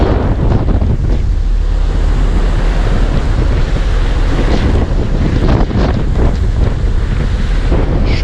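Loud rushing water and sea spray from a ship's wake churn continuously, heavily buffeted by wind blowing across the microphone.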